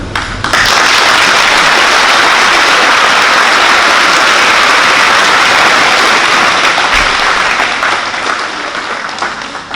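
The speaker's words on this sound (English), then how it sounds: "you deserve a big round of applause for that." Audience at a middle school awards assembly applauds in a dense, sustained wash of clapping that begins abruptly and fades slightly near the end, filling the hall.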